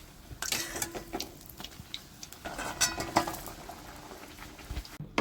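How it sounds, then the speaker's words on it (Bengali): Luchi puffed flatbread deep-frying in oil, with a continuous bubbling crackle close by and occasional clinks and scrapes of a metal utensil against the pan. "সব লুচিগুলো এইভাবেই আমি ভেজে নিচ্ছি"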